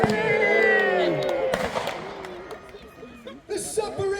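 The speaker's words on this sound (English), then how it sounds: "The submarine is blown! The conning tower's gone!" A pyrotechnic blast destroys a model submarine during a staged naval battle on a park lake, cracking and popping amid crowd noise and a voice, with a sharper burst near the end.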